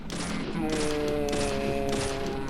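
Gunshots in the Deadly Premonition video game crack in a dense repeated volley with a dull underlying rumble and a tonal hum layered over it, loud and continuous across the short stretch.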